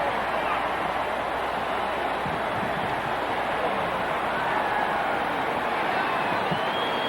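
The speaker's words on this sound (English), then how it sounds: "And a rush comes up from this big crowd at the Astrodome in Houston, Texas" Big crowd roaring at the Astrodome in Houston, Texas, after a boxing fight is stopped: a dense, sustained wall of cheering and shouting that holds steady and loud throughout.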